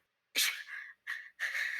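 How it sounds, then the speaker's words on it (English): A single sudden sneeze bursts out sharply and close, followed by a couple of breathy, strained trailing sounds in a quiet room. "Like if I sneeze like that, my back hurts"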